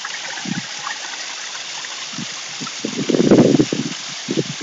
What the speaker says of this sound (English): You'll see it pouring now.